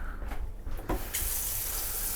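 Water runs steadily from a tap, starting with a few clunks and splashes before settling into a continuous rushing stream.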